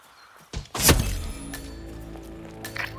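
A single sharp gunshot cracks out in a stealth action video game as a sniper takes out a target, with a sudden loud impact followed by a lingering decaying tail.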